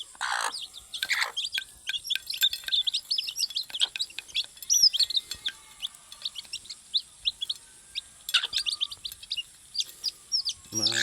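Chicks being fed in a poultry setting chirp constantly, with many overlapping high peeps in a busy, continuous chorus, close by and fairly loud, and a few louder calls breaking through.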